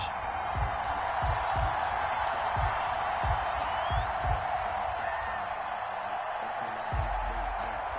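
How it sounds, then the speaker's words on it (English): Simulated stadium crowd noise from a Madden 21 Titans versus Jaguars football game, a steady dense roar with faint cheers and whistles rising and falling throughout, with no talk. "This crowd is ready as their guys get set to match up"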